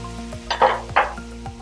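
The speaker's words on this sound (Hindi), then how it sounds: "और अब आपने चिकन को भी अच्छे से लहसुन अदरक में फ्राई कर लेना" Chicken pieces frying in ginger garlic paste with curry leaves in a hot pan, giving a soft steady sizzle with a few brief louder bursts as the food is stirred, close and without speech.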